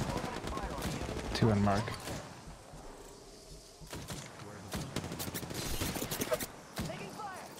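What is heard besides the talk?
gunfire in Apex Legends video game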